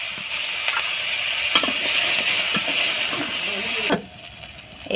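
Chopped garlic hitting hot oil in a pan with fried dried fish gives a loud, steady sizzle and hiss that cuts off abruptly near the end.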